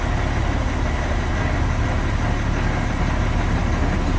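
Tractor-trailer truck engine with the tractor brakes set while attempting to pull forward, a steady low diesel rumble and drone, close and continuous, with no talk.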